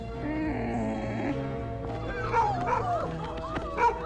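A dog barks and yips in a handful of short bursts over a dense, tonal background, fairly loud and close.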